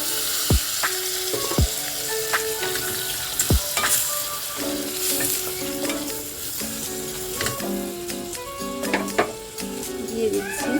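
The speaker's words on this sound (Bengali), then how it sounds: "মাংসটা নেড়ে চেড়ে নিয়েছি, খানিকটা ভাজা হয়ে গেছে।" Chicken and chopped green beans sizzle and fry in a pan while being stirred, with steady crackling throughout and a few sharp scrapes and knocks of the utensil against the pan, close and fairly loud.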